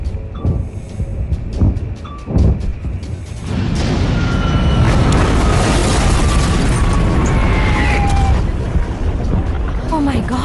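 A fire rumbles ahead of a plane in flight in a dubbed Hollywood action movie. Faint tones and voices come first, then a sustained, loud roaring rumble swells in and holds.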